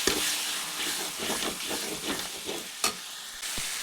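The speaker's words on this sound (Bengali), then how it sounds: "জল দিয়ে মশলাটিকে আরও কিছুক্ষণ কষিয়ে নিচ্ছি" Masala spice paste frying with a splash of water for Bengali chicken kosha, a dense close sizzle with stirring scrapes and a couple of sharper knocks, no voices.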